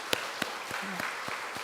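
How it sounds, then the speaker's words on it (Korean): A church congregation at a Sunday afternoon service gives a round of encouraging applause, with several sharp, distinct claps standing out over a steady background of clapping for under two seconds. "격려의 박수 한번"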